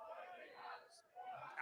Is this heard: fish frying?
no